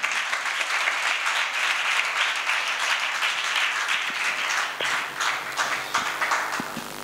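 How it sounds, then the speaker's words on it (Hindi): Audience applause at the closing ceremony of a three-day convention: loud, dense clapping from a large crowd that holds steady for several seconds, then thins into scattered claps near the end. "ये इनके लिए एक बार जोरदार ताली बनती है"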